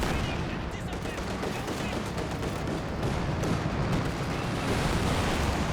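A Soviet loiter air strike in Company of Heroes 2 unleashes continuous, dense bursts of rapid gunfire and heavy blasts, staying loud and unbroken throughout.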